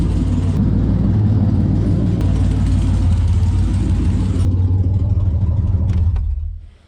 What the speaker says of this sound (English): The engine is running and we're ready to go